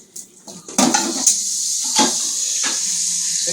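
A pot and pan handled in a home kitchen, with several sharp metallic clanks and knocks over a steady background hiss of cooking, heard up close.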